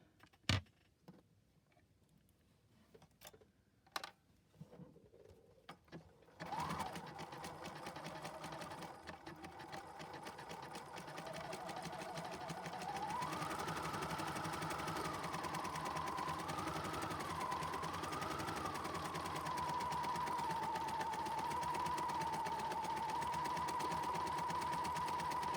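Sewing machine stitching a simple cross stitch on craft pieces: a few clicks and taps, then a steady, close mechanical whir that runs continuously for about twenty seconds with a slight rising and falling hum.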